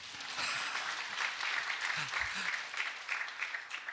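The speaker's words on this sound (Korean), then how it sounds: "박수 치셔도 됩니다" A church congregation applauds during a Sunday worship service, a steady wash of hand claps filling the room, with a brief low voice murmuring underneath.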